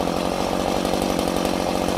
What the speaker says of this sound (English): Texas chainsaw.